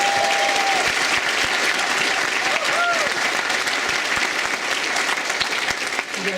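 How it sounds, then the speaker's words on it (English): An audience applauds at a university graduation ceremony, sustained dense clapping filling a large hall for several seconds with a few faint voices underneath. "One more round of applause for these outstanding students."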